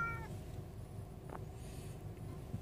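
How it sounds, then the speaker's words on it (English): A house cat meows faintly indoors, with a short meow at the start and another brief one a moment later, both soft against a low background hum. "Can you hear Kennedy meowing?"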